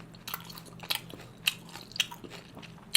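Close-up eating of Korean sundae with kkakdugi radish kimchi dipped in salted shrimp: several sharp, crisp bites and crunches at irregular intervals over soft wet chewing, with no talk.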